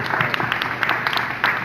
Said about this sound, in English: Please give a round of applause for Congressman Bob Brady.